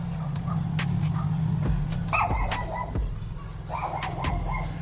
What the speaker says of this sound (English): It's them dogs. Oh, yeah. They'd be yapping the whole time.